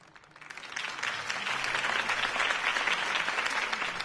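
Applause swells up from quiet into a full, sustained round of clapping from a sizable crowd, steady and close.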